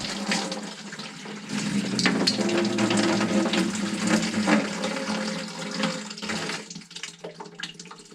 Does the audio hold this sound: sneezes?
no